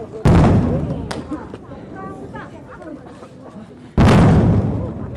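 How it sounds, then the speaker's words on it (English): Riot police fire rounds into the air during protests in eastern Tibet: two loud, sharp bangs a few seconds apart, each with a booming tail, with a person talking in between. "They've fired a number of rounds, I think, into the air"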